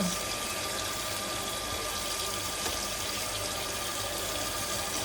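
Tap water runs steadily into a sink as a small child washes dishes with soap, a continuous close hiss of flowing water with no pauses.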